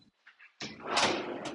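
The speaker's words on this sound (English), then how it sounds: "Dishwasher." A kitchen dishwasher door pulled open during a cleaning inspection, a short latch click followed by a louder sliding, rattling clatter of the door and racks, heard close up.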